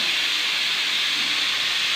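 Steam jets from the whistle of a pressure cooker cooking ghee rice in a continuous, even hiss, near and fairly loud, unbroken from start to finish with no voices.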